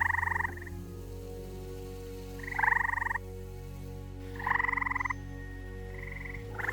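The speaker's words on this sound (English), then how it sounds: "gray tree frogs were everywhere, and I mean everywhere" Gray tree frogs at a large outdoor pond give three loud, close trilling calls a couple of seconds apart, each a short buzzy burst, over a steady low background drone.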